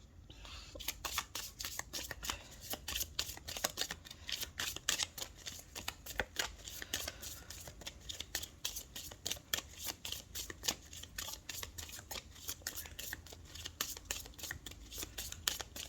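Tarot cards are shuffled continuously in a rapid, crisp flutter of riffling and sliding cards, steady and close throughout, with no talking.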